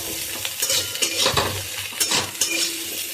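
Fish roe is sautéed in a pan as a spatula scrapes and stirs it in quick, rhythmic strokes over a close sizzle, with metal utensil knocks.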